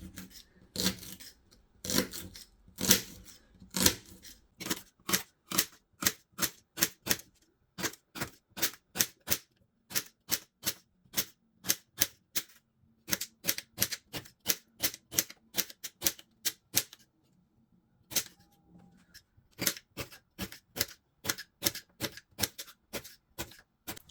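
A knife finely slices celery on a cutting board, giving quick, crisp taps in steady bursts separated by short pauses. The sound is close and fairly soft, with no talking.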